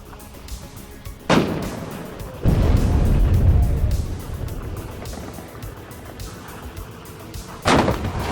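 Heavy artillery booms and gunfire ring out in the WARNO battle simulator, with a few loud blasts separated by rumbling decay and quieter ambient battle noise.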